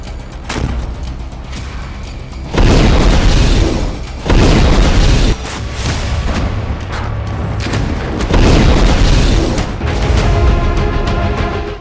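Explosions during a Hamas attack on Israeli tanks at Bureij camp in Gaza: several loud, close booms, each followed by rumbling debris and a lingering roar, with no talk.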